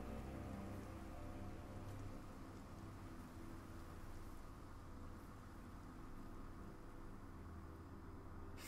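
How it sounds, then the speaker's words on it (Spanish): Steady rain pours down in the video game Sekiro: Shadows Die Twice, a continuous even hiss of falling water with a low rumble underneath, holding at one level throughout with no voices. "Se pone a llover."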